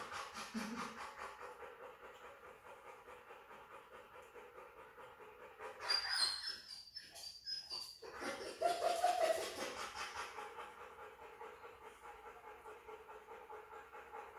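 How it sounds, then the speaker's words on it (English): A big fuzzy black dog pants in quick rhythmic breaths, fairly close and soft, rising into a louder burst of rapid panting midway before settling back to a quieter steady huff. "He's still panting like crazy too."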